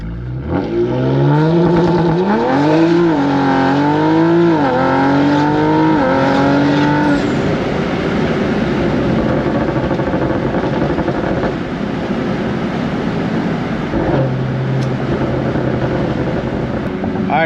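A Stage 2 tuned Audi RS5 revs hard through launch control, its engine note climbing and wavering before a sustained loud roar as the car pulls away close by.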